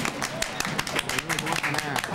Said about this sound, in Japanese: 拍手だ。